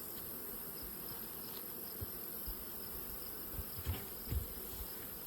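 Soft, steady buzzing of honey bees at a hive hums through the whole clip, many bees droning together at close range, with a few faint knocks and bumps underneath.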